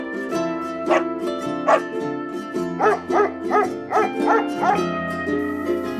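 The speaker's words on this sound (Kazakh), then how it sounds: "Ит үреді, арсылдайды." A dog barking loudly and close by, a series of about a dozen barks, some single and some in quick pairs, over a steady tonal background hum.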